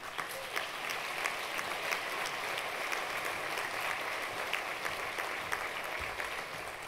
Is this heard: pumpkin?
no